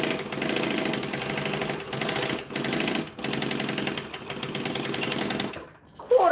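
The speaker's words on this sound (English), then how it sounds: "I redesigned my sewing machine for these problems." A sewing machine stitches in fast, steady bursts close by, its rapid mechanical chatter broken by several short pauses and stopping near the end.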